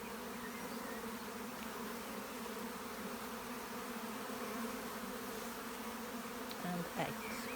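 Honeybees buzz around an open hive frame heavy with honey, a dense, steady drone close by, with no talk over it.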